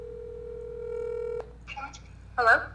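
A phone dials out for an on-air call during a livestream: steady tone, then a string of short keypad beeps, followed by a brief louder electronic burst near the end, with no one speaking.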